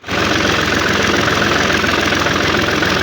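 A tractor engine idles loud and close just after starting, with a rough, knocking diesel rumble that holds steady for a few seconds.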